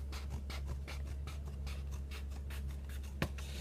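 Steady scratchy scraping strokes from trimming the edge of a handmade chest plate, repeated in an even rhythm over a constant low hum, with one sharper snap near the end.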